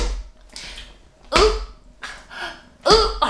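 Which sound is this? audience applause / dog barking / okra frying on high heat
dog barking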